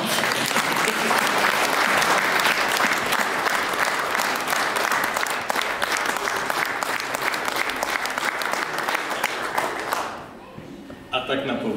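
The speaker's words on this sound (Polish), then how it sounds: "brawa!" Dense, loud audience applause fills a hall for about ten seconds before tapering off sharply into a quieter scatter of claps.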